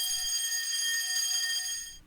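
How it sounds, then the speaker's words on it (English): A fire alarm bell rings loud and steady inside an apartment, a continuous metallic clangor of bright overtones holding for about two seconds before cutting off abruptly near the end. "you have no idea the pain of having a fire alarm bell in your apartment every time it goes off"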